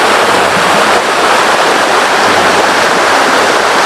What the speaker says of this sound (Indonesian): Jadi ada pertemuan dua sungai ketemu jadi satu.